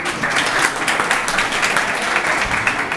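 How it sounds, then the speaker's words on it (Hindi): Continuous loud applause from a seated audience at an award ceremony for senior wrestlers in Malegaon, many hands clapping together without a break. "एक बार वो खड़े हो जाए और उनके लिए एक बार ज़ोरदार तालियां हो जाए।"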